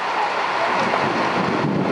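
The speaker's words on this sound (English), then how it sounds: "It's the thunder, lightning." A violent tropical thunderstorm in Belize, with a dense, continuous roar of heavy rain and gusting wind blasting the microphone, and thunder rumbling beneath.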